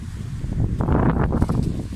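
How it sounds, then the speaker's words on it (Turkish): Strong wind gusts outdoors at a rooftop pigeon coop, roaring and buffeting the microphone in a loud, continuous rush that swells midway. "Çok rüzgar var."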